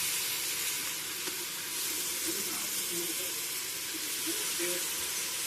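Yogurt goes into a hot pan of sizzling chicken biryani masala, producing a steady, loud hiss and sizzle that stays even throughout without any pauses.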